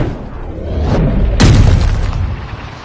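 A PS4 golf game club strikes the ball in one sharp, loud hit, with a steady roar of crowd or ambience under it and no talk.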